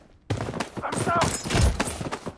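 Gunfire in the video game Blood Strike crackles as a dense, fast burst of rapid shots at close range, mixed with game sounds and spoken voice lines.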